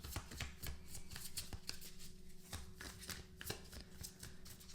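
Tarot cards are shuffled by hand in a quiet room, giving a continuous rapid riffling and slapping with soft flutters, close and fairly faint, with no talk.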